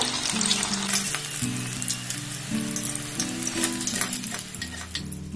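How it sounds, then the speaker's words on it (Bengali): Potato and egg snacks deep-fry in hot oil over a high gas flame, making a continuous crackling sizzle with light stirring, while soft background music plays beneath. "তারপর গ্যাসের ফ্লেমটাকে হাই দিয়ে এগুলোকে এইভাবে লাল লাল করে ভেজে নেব"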